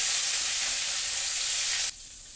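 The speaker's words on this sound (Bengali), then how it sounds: "উচ্ছেগুলো ভেজে নিচ্ছি।" Bitter gourd slices fry in hot oil in a wok, a steady bright sizzle that cuts off abruptly near the end, leaving only a faint hiss.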